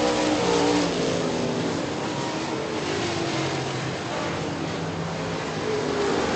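Late model stock cars racing around an oval track, a loud continuous engine roar with rising and falling revs as the pack circles, heard steadily from the grandstand without talking.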